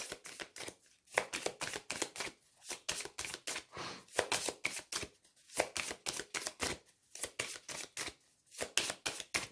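Oracle cards are shuffled and drawn by hand, giving rapid, rhythmic bursts of riffling and slapping card sounds in repeated runs, close and fairly loud with brief pauses between shuffles.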